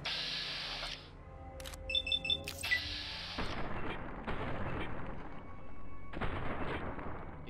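Gunfire in Fallout: New Vegas, with several sharp shots and booming blasts spread across the stretch, separated by brief electronic beeps and quieter game ambience, with no voices.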